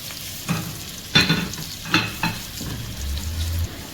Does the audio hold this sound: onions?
yes